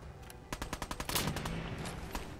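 A rapid burst of about eight shots from the player's gun in Fallout 4, fairly faint, with the last reports trailing off into a few scattered shots.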